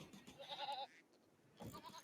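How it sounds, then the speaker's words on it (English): Goats bleat from a pen in a video game: a couple of nasal, wavering bleats at moderate distance, the first longer and the second shorter, with no talk over them. "I'm hearing goats here, and then I realized that there is a pen"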